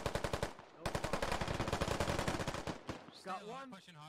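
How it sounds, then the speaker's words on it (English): Rapid automatic gunshots in the military shooter Squad, fired through a wall in close-quarters combat: loud, evenly spaced reports in two long bursts, followed by a short stretch of talk. "Trying to take some shots through the wall."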